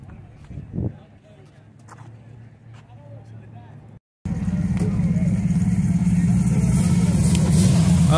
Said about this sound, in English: A big block car. Big block.